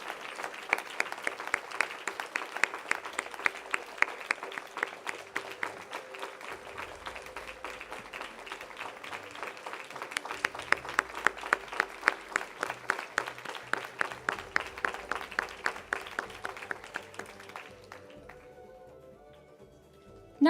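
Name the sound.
audience applause after a talk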